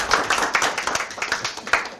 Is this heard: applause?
yes